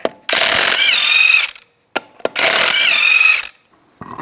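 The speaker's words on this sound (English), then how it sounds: "Use a 19mm socket, take the lug nuts off." Lug nuts come off a 2001-2008 Chevy Trailblazer wheel with a 19mm socket on a hand ratchet, giving two long, loud, rapid clicking bursts, each about a second long, with short knocks between them and no talk.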